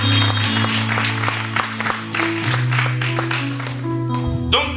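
A church congregation applauds and cheers to acclaim the Lord, a dense, steady wash of clapping with sustained organ or keyboard chords beneath, lasting throughout.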